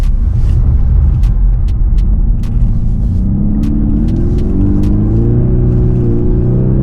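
A VW Golf R drives fast on snow and ice in Lapland, Sweden, its loud low engine rumble and tyre roar rising steadily in pitch as it accelerates down a long stretch, with occasional sharp clicks.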